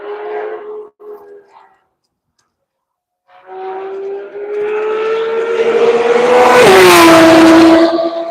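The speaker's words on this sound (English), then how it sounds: "Now we're just waiting on Steve Baxter in the GT3 RS to finish his first of 3 laps." A Porsche GT3 RS race car lapping Road Atlanta during a One Lap of America session swells from a distant engine note into a loud, close pass, with a sharp pitch drop as it goes by and a rising roar afterward.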